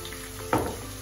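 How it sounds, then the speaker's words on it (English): A short burst of sizzling from onion sautéing in hot oil, with a soft stir at the midpoint over a steady hiss. "Saute the onion until it is translucent"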